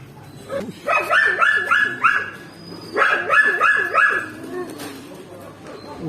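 Dogs in a village bark in two close, loud bursts of repeated yelping barks separated by a short pause, with whimpers and background noise between.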